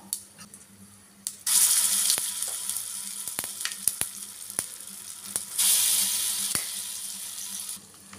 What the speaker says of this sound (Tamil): இந்த காஞ்ச மிளகாயெலாம் நல்லா பொறிஞ்சிட்டு இப்போ நம்ம அரைச்சி வச்ச பேஸ்ட்டை சேர்த்துட்டுருவோம்.